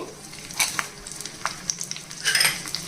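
Dry red chillies drop into hot oil with frying peanuts, giving a crackling sizzle with scattered pops and a louder burst of spitting toward the end, close up with no speech.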